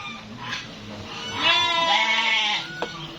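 A young twin black-headed F2 Dorper ram bleats loudly and nearby in a drawn-out, wavering call, with a shorter bleat after it. Quieter farm sounds fill the background.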